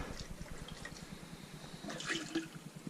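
Water sloshes and splashes inside a homebrew container as yeast sediment from a sour beer batch is rinsed out, with a rapid rhythmic swishing and a few brighter splashes near the end.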